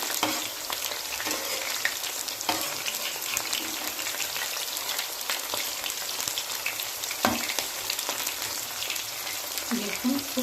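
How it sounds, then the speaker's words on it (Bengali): Mushroom pakoras fry in hot oil, a dense, loud bubbling sizzle that runs throughout, with occasional scrapes and knocks of a spatula turning them. "আমাকে দু পিটি সুন্দর করে লাল লাল করে ভাজতে হবে তো আমি খুন্তি দিয়ে এক এক করে দিয়ে দেব"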